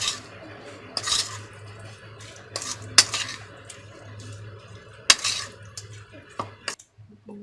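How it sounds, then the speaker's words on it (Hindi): Chicken being mixed with tikka masala, salt and lemon juice in a bowl: a spoon clinks and scrapes against the dish in irregular taps and stirs, close and fairly quiet, with no talk. "चिकन टिक्का मसाला, नमक, लेमन जूस, अच्छी तरह मिक्स कर लेंगे।"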